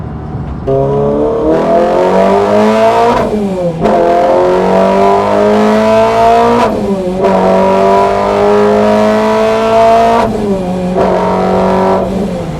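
A loud supercharged Renault Clio RS200 engine drones and climbs through the revs under acceleration, with brief drops between gear changes and occasional whooshing dump valve releases of boost.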